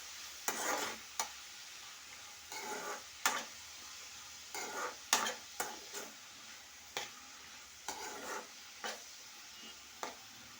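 Onion, tomato and green chillies fry in a pan, with a faint steady sizzle and about a dozen short, sharp scrapes of a spoon stirring against the pan.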